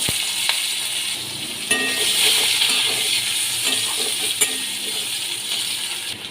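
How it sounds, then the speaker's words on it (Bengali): Potato pieces fry in hot oil with black cumin seeds and green chillies for a Bengali taro-and-prawn dish, giving a steady, close, bright sizzle that continues throughout with small crackles. "আলুগুলো ভেজে নেব"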